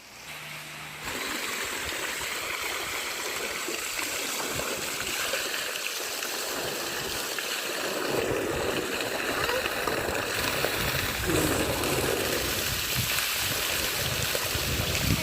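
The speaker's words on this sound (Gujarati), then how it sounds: "તમે વિચાર કરો કે આવા શિયાળામાં કોઈ નાય ઠંડા પાણીમાં" Water splashing and pouring steadily as a person bathes in cold water in a farm tank, a continuous wet rushing sound close by with no talk.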